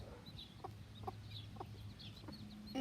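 Several new pet chickens cluck softly in a short, spaced series of quiet calls over a steady low background hum, fairly faint and without any voices.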